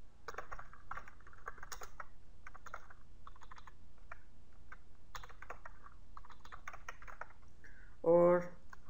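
Light, fast keystrokes on a computer keyboard as a name is entered in a Microsoft Access 2013 form, a steady run of close, soft clicks ending in one louder thump, with someone speaking quietly underneath.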